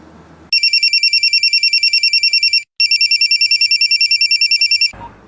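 A loud electronic phone ringtone trills in two long bursts with a short gap between them, close and clear, then stops abruptly.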